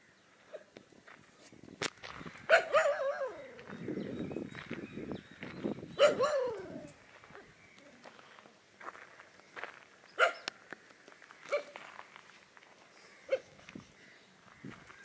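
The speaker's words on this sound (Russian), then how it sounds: "Собаки лают на нас." Dogs bark a few times at a distance near a Buddhist stupa in Pottuvil, Sri Lanka, sharp scattered yelps mixed with footsteps and quiet outdoor ambience.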